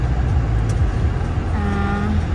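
Car engine idling in winter to warm up, a loud steady low rumble close by with a faint rising whine partway through and no voices.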